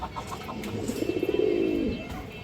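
A female pigeon at a breeding farm gives a soft, rolling coo that swells to a throaty peak and then fades, set against a low background hum and faint chirps from other birds.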